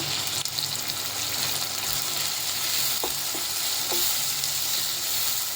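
Chopped tomato sizzles in a pan of roasted onion for vegetable kurma, a steady close frying hiss throughout, with a few faint clinks of a spoon against the pan.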